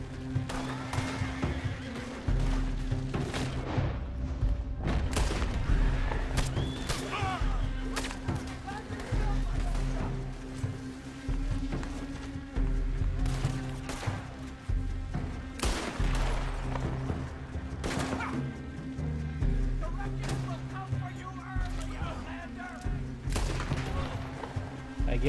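Scattered pistol shots in Red Dead Redemption 2, sharp cracks spaced irregularly among horse whinnies and hoof clops, with someone talking in between.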